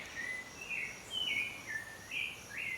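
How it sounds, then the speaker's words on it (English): Birds sing outdoors in high, warbling phrases that rise and fall repeatedly over a faint, steady background hiss, with no voices. "So many bird sounds."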